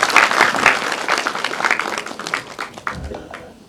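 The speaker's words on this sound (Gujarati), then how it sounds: "હું તો કહું કે વૈશાલીબેનને અને ભાવેશભાઈને એક જોરદાર તાળીઓથી વધાવો." Audience applause at a World Mother Language Festival celebration held at a district police superintendent's office, sustained dense clapping for several seconds that gradually thins out toward the end.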